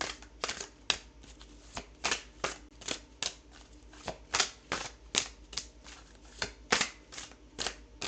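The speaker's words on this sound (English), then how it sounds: "So pardon me while I shuffle." A deck of tarot cards is shuffled by hand in a steady rhythm of crisp riffling bursts about every half second. The sound is close and fairly quiet, with no talking.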